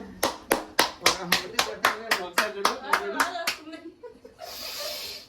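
A lively run of about a dozen sharp hand claps in a steady, even rhythm, close and loud, then a short soft hiss as the clapping stops.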